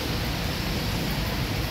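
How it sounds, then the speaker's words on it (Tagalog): Heavy rain pours down outside a restaurant, a steady, dense hiss that stays even and loud throughout with no voices. "Lakas ng ulan mga kaibigan."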